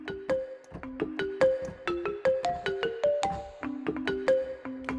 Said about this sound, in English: That's simply the pure sample of balafon, which is, of course, very cool as a percussive sound.